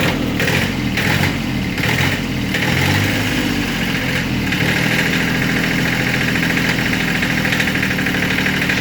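A Kubota B8200E compact tractor engine runs just after a cold start, with a loud, close, steady chugging idle and a knocking rhythm that is a little rougher in the first seconds, and no talking.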